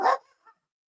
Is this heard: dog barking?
yes